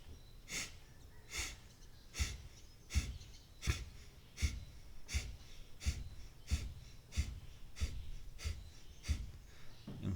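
Breath of fire pranayama, the kapalabhati yoga breathing exercise: a steady series of about fourteen sharp, forceful nasal exhalations, roughly one every 0.7 seconds, close and fairly quiet, with no talking.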